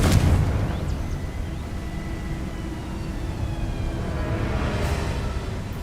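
A Confringo blasting spell explosion in Hogwarts Legacy, an initial boom and crackle that settles into a long, broad rumbling roar carrying on steadily for several seconds.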